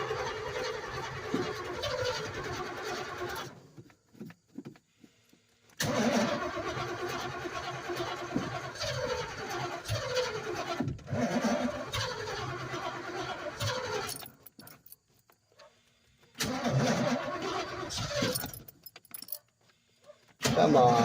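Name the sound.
car engine cranking but failing to start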